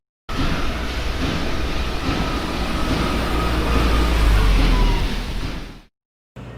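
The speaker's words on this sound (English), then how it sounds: "Sounds from factories." Dense industrial factory noise, a steady loud roar of machinery with a constant hum and a brief louder swell near the end before it cuts off.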